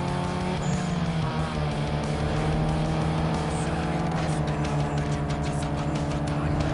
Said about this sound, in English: If you can hear his engine, it sounds the same as mine